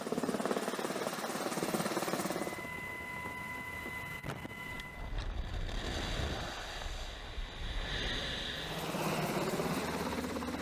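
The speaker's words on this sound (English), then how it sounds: "No one is immune to the noise and wind created by the rotating blades." Military helicopter rotor blades spinning, a loud, roaring wash of rotor noise with heavy wind buffeting, sustained and close, shifting in intensity over about ten seconds.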